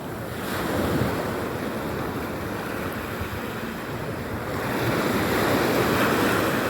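Sea waves wash in a continuous, loud surf roar with a gusty wind-like hiss, swelling slightly near the end, with no voices.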